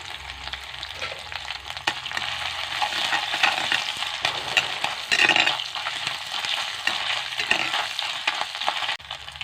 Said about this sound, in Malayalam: നമ്മൾ ചീനച്ചട്ടി അടുപ്പത്ത് വെച്ചിട്ടുണ്ട് നമുക്കതിലേക്ക് നെയ്യ് ഒഴിച്ചു കൊടുക്കാം പിന്നെ തേങ്ങ ഒന്ന് മൂപ്പിച്ചെടുക്കാം